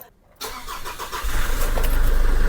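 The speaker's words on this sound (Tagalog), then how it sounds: "kapag in-start ko ngayon, itong Ford Everest na to, gagana na po yan" A Ford Everest engine cranks briefly and catches, then settles into a steady running idle that holds close and loud with no voices.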